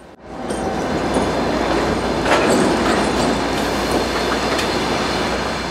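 Kyiv–Rakhiv passenger train pulling into the station, a steady loud rumble of rolling wagons with clattering wheels and faint squeal, continuous throughout with no talk.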